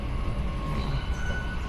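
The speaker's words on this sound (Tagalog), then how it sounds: "So nandito na ang MRT" An MRT train pulls into a station with a steady, close rumble of wheels on rails and a faint metallic squeal, and no one speaks.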